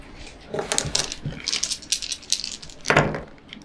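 Board game dice from a Brew unboxing clatter and drop onto a surface in several short bursts, with a louder tumble near the end, close and crisp.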